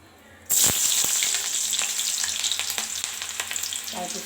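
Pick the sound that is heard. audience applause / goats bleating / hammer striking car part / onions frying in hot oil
onions frying in hot oil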